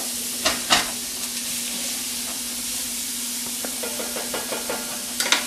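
Onions and ham sizzle gently in an oiled pan as they lightly brown, a steady soft frying hiss punctuated by a few sharp utensil clinks and stirring scrapes near the start and end.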